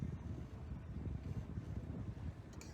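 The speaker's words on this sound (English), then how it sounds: "Now we're getting some wind out here" Wind while sailing a boat: steady low rushing and buffeting against the microphone, continuous throughout with no voices.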